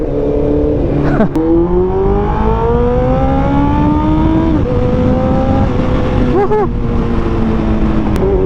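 Kawasaki ZX14R motorcycle engine accelerating hard, a loud continuous roar with rising pitch, briefly dropping at gear shifts before climbing again, heard close throughout.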